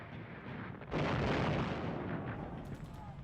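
World War II artillery fire: a heavy boom bursts in after a low rumbling background and then rolls into a dense, sustained roar of distant blasts that slowly fades.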